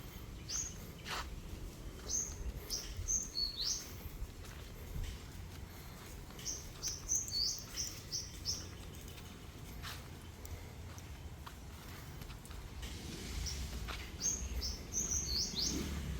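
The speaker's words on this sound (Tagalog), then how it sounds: "Marami ditong ibon na kumakanta dito banda." Small birds chirp in short, rapid trilling bursts, three separate phrases spread across a steady low background rumble from the sea, moderately distant and faint.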